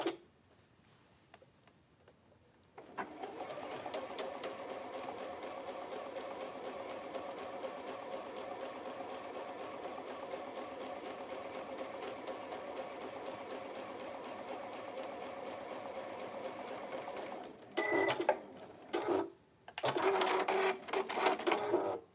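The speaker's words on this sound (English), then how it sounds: "I'm going to stitch along where this bust is so it could fit." A sewing machine runs steadily along the bust of a dress using a long stitch length, giving a fast, even mechanical whir close by for about fifteen seconds, then a few short start-stop bursts, with no talking.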